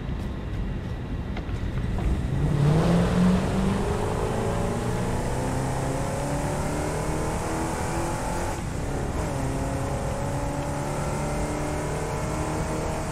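The Explorer vehicle drives in the video game Satisfactory, its engine revving up and then holding a steady, close motor drone that fills the whole stretch.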